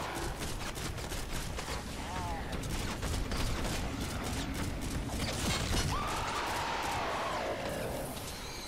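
A Ranger rifle firing in bursts in Fortnite Save the World, dense rapid shots over continuous loud game noise and battle sounds, with a voice talking at times.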